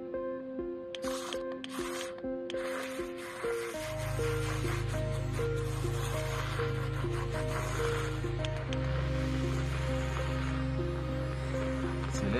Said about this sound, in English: Push and turn on the USB speed adjustable milk frother.